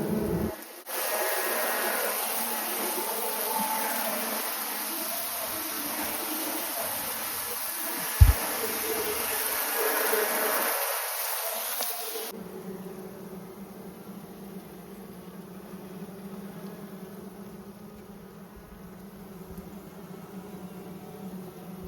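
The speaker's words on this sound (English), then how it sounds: "we are going to have plenty of little bees up close for you" Close, dense buzzing of many honey bees droning steadily at a hive, then the sound drops to a quieter, duller hum for the second half.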